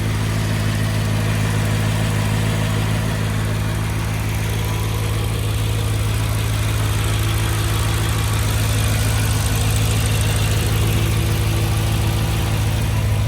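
A Mercedes-AMG W202 with its M113 V8 idles steadily close by, a smooth continuous low rumble with an even hum and no voices.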